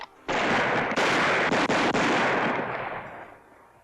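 Guns fire in a 1969 western film: a sudden loud blast followed by several quick, sharp reports, then a long echoing tail fading away.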